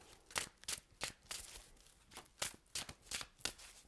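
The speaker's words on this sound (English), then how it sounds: "Give them a good shuffle." A deck of tarot cards is shuffled by hand, a close run of quick papery riffles and slaps in irregular bursts, with no talk.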